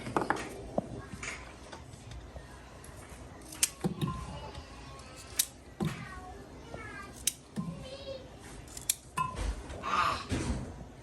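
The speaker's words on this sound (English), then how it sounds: "I just cut the bad spots off and throw them in like that" Intermittent knife cuts and clicks on a board as bad spots are cut off potatoes, with soft clatter and a few faint background noises between the sharp strokes.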